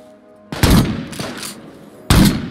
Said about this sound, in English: He's gonna run right into my turret